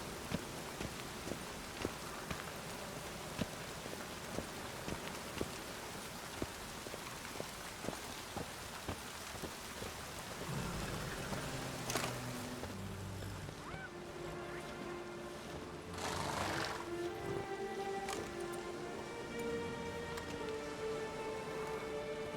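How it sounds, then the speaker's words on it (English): Steady rain patters over a surface with scattered drip clicks in The Witcher 3, joined later by a low rumble and a brief tonal swell. "Rain like this would fetch a fortune in Zerrikania."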